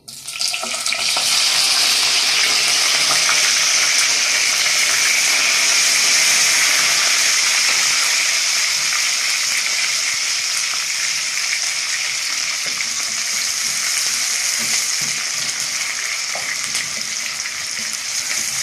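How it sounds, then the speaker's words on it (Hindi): Medium-sized chopped onions dropped into hot oil and frying, a loud, steady, close hiss and crackle that rises sharply at the start and holds evenly throughout, with no talk. "इसके अंदर मैं दरमियाने साइज की प्याज मैंने काटी हुई है, इसके अंदर डाल दूंगी।"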